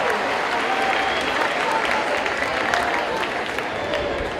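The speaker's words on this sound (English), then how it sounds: "Let's give a big round of applause." A school pep rally crowd claps in a steady, dense round of applause, loud and continuous from start to finish, with faint cheering mixed into the noise of the gym.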